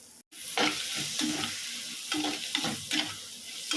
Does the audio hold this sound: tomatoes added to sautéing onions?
yes